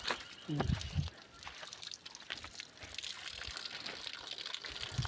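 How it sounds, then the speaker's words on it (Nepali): A thin stream of cold water runs from a tap weakened by drought, a soft continuous trickle heard fairly close, with a few low splashes near the start and no talking. "अहिले खडेरी परेको कारणले गर्दै धारा यस्तो भएको छ सानो"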